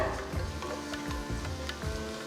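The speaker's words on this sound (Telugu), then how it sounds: "ఇప్పుడు ఉల్లిపాయల్ని మంచి ఒక గోల్డెన్ బ్రౌన్ కలర్కి వచ్చే వరకు దీన్ని వేయించాలన్నమాట" Onions frying in a pan toward golden brown, giving a steady close sizzle with a few stirring scrapes and clinks at irregular intervals.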